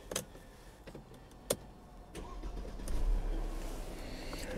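A 2011 Mercedes E250 W207 Cabriolet engine starts: a few clicks and clunks, then the engine catches and settles into a steady, fairly loud idle rumble.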